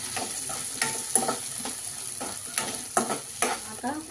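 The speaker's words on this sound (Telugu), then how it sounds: "3 పచ్చిమిర్చి వేగినాక పెద్ద సైజు ఉల్లిగడ్డ వేసుకున్నాము." Green chilies and a large onion fry in two spoons of oil in a kadai, giving a steady close sizzle with repeated scraping stir strokes, and no talking.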